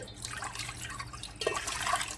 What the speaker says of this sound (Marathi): पाणी टाकलं